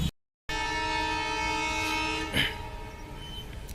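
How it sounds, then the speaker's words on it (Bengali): Ekta Express sounds a loud, sustained horn as it crosses the Uttar Azampur rail gate near Dhaka, the blast ringing close for about two seconds before fading into the rumble of the passing carriages. "সকাল দশটা সাতান্ন মিনিটে উত্তর আজমপুর রেলগেট পার হয়ে গেল এখন থেকে চার মিনিট আগে ট্রেনটি ঢাকা বিমানবন্দর ছেড়ে এসেছে"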